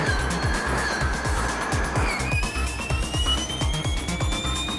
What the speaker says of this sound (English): Cars made their way out onto the circuit.